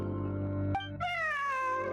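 A cat lets out a single clear, drawn-out meow close by, following a steady background hum and a brief click.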